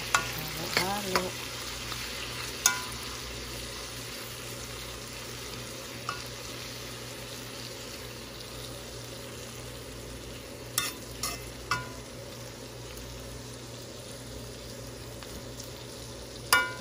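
Tomatoes sautéing with ginamos fish paste in a pan, a steady low sizzle with intermittent scrapes and clacks of a spoon stirring, close up and without talk.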